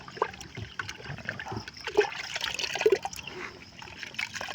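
Liquid humus fertilizer trickles and splashes steadily close by, a soft, continuous dribble of water without speech.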